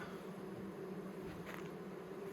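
Bees relocating to a new restored hive hum in a soft, continuous buzz, faint and steady with a brief brighter swell midway, no voices present.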